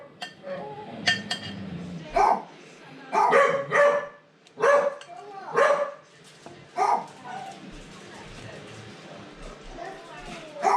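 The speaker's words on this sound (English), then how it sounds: "while my dogs are being absolutely ballistic" Several pet dogs bark excitedly in a home kitchen, loud repeated bursts of barking in irregular clusters with a few clinks in between.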